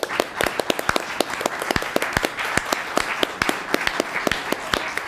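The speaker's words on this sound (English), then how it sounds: "could they all stand so we could clap for them?" An audience at a congressional candidates' forum claps for League of Women Voters volunteers, giving sparse, fairly quiet applause with distinct individual claps rather than a dense roar.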